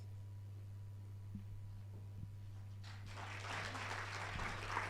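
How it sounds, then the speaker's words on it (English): Audience applause at an investment conference begins partway through, rising from near silence into a moderate, scattered clapping over a steady electrical hum. "Thank you for clapping"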